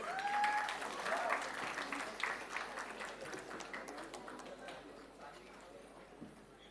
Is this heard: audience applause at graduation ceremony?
yes